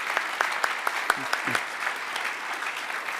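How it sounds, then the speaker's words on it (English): Audience applause for keynote speakers closing a plenary session of a groundwater conference, a moderate crowd clapping steadily with distinct individual claps on top and a brief voice murmuring underneath. "let's give another round of applause to our keynote speakers"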